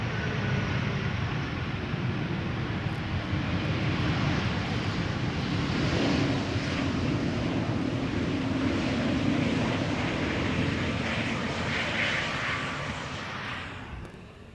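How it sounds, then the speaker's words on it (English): KLM Embraer E2 jet arriving at Amsterdam Schiphol, a steady broad engine rumble and roar heard from a distance, holding level throughout before fading slightly at the end, with no talking. "KLM 1200 up first, E2 Embraer arriving from Copenhagen, 1 hour and 4 minutes on the way."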